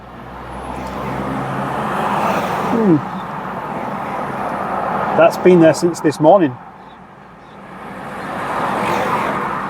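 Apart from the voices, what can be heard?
road traffic passing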